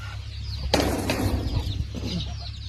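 Hens cluck in a small backyard poultry coop, a burst of close clucking and rustling rising suddenly over a low steady background hum.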